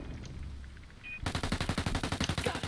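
Rapid automatic gunfire in Ghost Recon Wildlands Ghost War starts suddenly after a quiet lead-in, a close, loud string of evenly spaced shots running steadily to the end.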